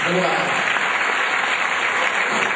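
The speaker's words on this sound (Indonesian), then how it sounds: "Kita tepuk tangan." A church congregation at a Pentecostal regional assembly applauds a candidate, a steady wash of many hands clapping at once, loud and continuous throughout the short stretch.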